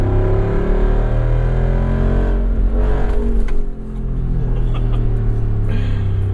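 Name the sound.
passing car, a BMW XM or Genesis GV8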